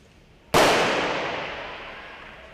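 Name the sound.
starting gunshot for track cycling scratch race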